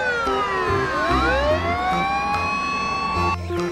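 A toy fire truck siren wails with rising and falling electronic tones, loud and close, over a steady mechanical hum.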